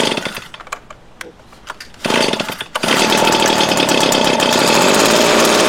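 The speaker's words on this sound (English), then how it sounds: "I just put the choke on and I'm gonna give it a pull." Petrol leaf blower, choke on, pull-started: a couple of quiet rattling pulls, then the two-stroke engine fires at about two seconds, dips briefly, and settles into a loud, steady, close buzzing roar.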